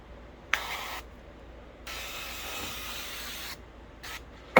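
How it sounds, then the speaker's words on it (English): Gourmet duck fat cooking spray from a can is sprayed onto a pork shoulder roast in several close hissing bursts, a short one, a long steady stretch of more than a second, then a brief final spurt. "It's just the gourmet duck fat cooking spray."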